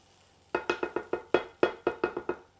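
Browning onions stirred in a pan, a quick series of about eleven crisp scraping strokes in a regular rhythm, close and fairly loud, starting after a short quiet lead-in with no talking.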